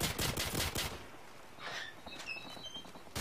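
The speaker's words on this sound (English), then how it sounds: "the reason I picked up this M60 is because it had full ammo, and I don't like reloading them" Rapid bursts of M60 machine gun fire in Call of Duty 4, loud and dense for about the first second, then fading into quieter game sounds and faint tones.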